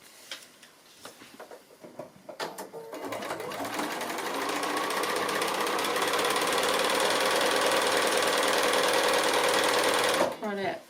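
A domestic sewing machine stitches a seam on a foundation-pieced quilt block: a few starting taps, then a fast steady whirring run of about six seconds that stops abruptly, close and clear.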